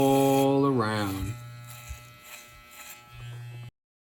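Electric hair clippers fitted with a number 2 guard buzz briefly during a men's fade haircut, a steady hum that drops low and quiet after a moment, with a voice talking over the start.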